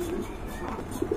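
Lahori pigeons, a red-coloured pair, give soft low coos, with two brief coo notes near the end over a faint background.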